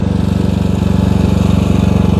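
A Duramax XP4500 dual fuel portable generator's small engine runs hard under a 1500-watt space heater load, a loud close steady chugging drone with a fast regular pulse.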